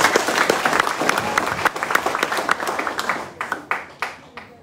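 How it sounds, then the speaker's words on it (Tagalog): An audience at a motivational talk bursts into dense applause that fades into scattered, separate claps over a few seconds. "O, palakpak naman dyan."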